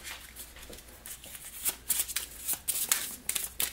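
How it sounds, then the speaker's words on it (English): Cards being shuffled and drawn for the Legendary Encounters Aliens board game, a quick series of crisp riffling and sliding bursts, close and fairly soft, with no talking. "We'll draw our next hand for the commander, who has 2 cards."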